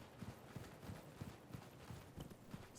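A horse's hooves clip-clop at a steady gallop while it is ridden uphill in the video game Elden Ring, a faint rhythmic pattern of beats, with no talking.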